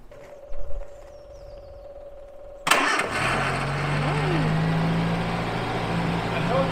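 A small car engine cranks and catches after a quiet moment, then settles into a steady, loud idle close by, with a brief voice heard just before it starts.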